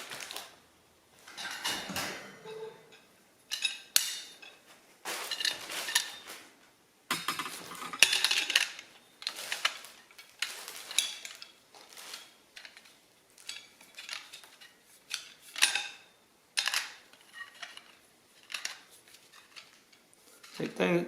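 Chrome shelf posts are screwed together by their metal pipe threads, one cross-threading, producing repeated close grinding, scraping and clinking bursts separated by short pauses.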